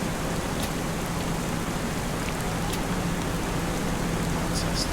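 Heavy rain pours steadily in the Farming Simulator 25 farming game, a dense, loud, even hiss of downpour that holds throughout, with a few sharp drop ticks standing out.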